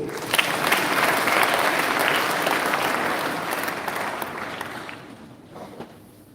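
Sustained applause from a church congregation at a Marian Congress at the Don Bosco Upperhill shrine in Nairobi, a dense, steady roar of clapping that gradually thins out and fades near the end.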